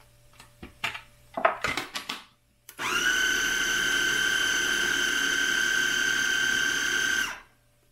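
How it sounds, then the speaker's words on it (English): A tiny food processor blends refried black beans: a few clicks and clunks of handling, then a loud, steady high-pitched motor whir for about four and a half seconds before it stops abruptly. "It's a tiny little food processor."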